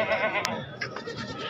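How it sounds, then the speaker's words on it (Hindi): Goats bleat at a livestock market, several short, close calls stacked within a second and a half, one sharp cry standing out among wavering bleats over a busy background, with no speech. "ये 2 बकरियां ने"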